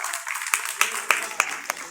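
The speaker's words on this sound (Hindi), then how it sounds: "एक बार जोरदार ताली से" An audience at a doctors' program applauds with a handful of distinct, loud hand claps spaced roughly a third of a second apart, ringing over a hissy background.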